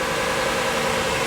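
A four-wheel-drive JDM van runs on a dyno, its engine a steady, dense mechanical drone with rumble and vibration, loud and continuous throughout.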